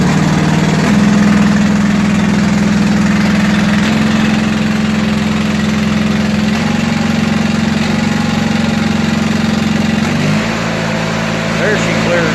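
John Deere 316 garden tractor engine with a newly fitted, leaking carburetor, running loud and close with a steady droning hum that shifts slightly as it settles; a person talks over it.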